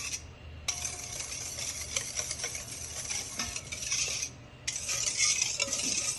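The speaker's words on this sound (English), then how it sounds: "I'm just whisking it a little" Hand whisking of a creamy batter for Jamaican toto in a bowl, a steady stream of rapid scraping and clinking strokes that drop out briefly twice, close and moderately loud.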